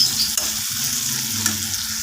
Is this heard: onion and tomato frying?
yes